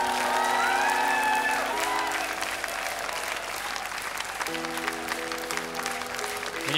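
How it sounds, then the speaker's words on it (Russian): Audience applause with some cheering for a singer at a televised talent-show performance, steady dense clapping that persists throughout, with sustained tonal music or voices faintly underneath. "Давайте поддержим аплодисменты."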